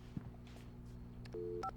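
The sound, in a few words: landline telephone being dialed in Alan Wake video game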